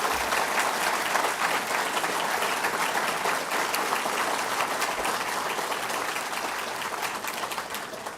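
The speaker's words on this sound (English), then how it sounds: "Let's give her another round of applause." Steady, dense applause from a dinner audience after a woman's singing performance, many hands clapping close together at a constant loud level throughout, with no voices over it.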